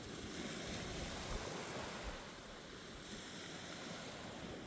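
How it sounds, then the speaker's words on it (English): Wind-driven surf on a Florida beach, a continuous broad wash of waves with gusty wind noise buffeting the microphone, steady and moderately loud, no talk. "It kicks up the surf."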